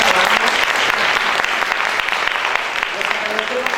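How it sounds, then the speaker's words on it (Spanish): An audience at an architecture talk applauds in loud, dense, continuous clapping, with some voices and murmurs mixed in under the applause. "Les agradecemos sus aplausos"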